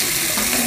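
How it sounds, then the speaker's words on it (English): Potatoes sizzle in a pan as they are stirred, a brief, loud, close burst of frying noise with no voices. "let me stir these potatoes here"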